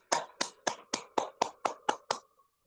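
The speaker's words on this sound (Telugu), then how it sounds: "ఈరోజు ఇంత గొప్ప జ్ఞానానికి, ధ్యానానికి గట్టిగా చప్పట్లు కొట్టుకుందాం" An audience claps hands after a meditation session: nine evenly spaced, fairly close claps in a steady rhythm, then silence.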